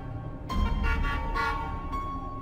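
A train sounds its horn as a danger warning, sustained loud blasts swelling and repeating over a rumbling, low background, with no voices.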